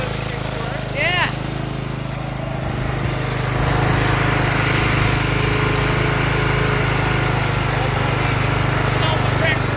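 A Craftsman lawn tractor engine runs loud and close, rising in pitch as it is revved and then holding at a higher drone. A person talks over it.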